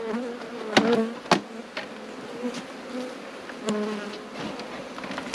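Honeybees hum in a steady, close buzz around a hive being fed and fitted with new frames, with a few sharp knocks and clicks breaking through.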